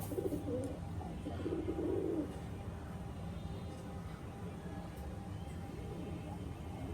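A Pakistani Teddy pigeon, one of a Teddy 128 pair, gives a few low, rolling coos near the start, then quieter cooing over a steady, noisy background.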